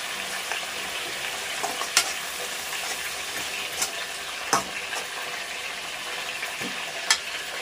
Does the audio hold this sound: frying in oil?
yes